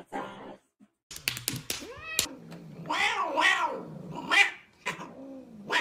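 A cat yowls and meows loudly at close range, with several drawn-out rising and falling cries following some sharp thumps and clicks near the start.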